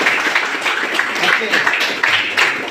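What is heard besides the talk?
classroom applause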